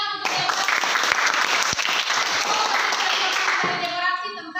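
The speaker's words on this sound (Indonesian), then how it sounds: "tepuk tangan untuk" Applause from a classroom audience, many hands clapping steadily and loudly for several seconds, with a few children's voices mixed in.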